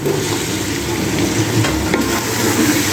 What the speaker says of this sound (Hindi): इसको भी 1 से 2 मिनट भूनेंगे मसाले के साथ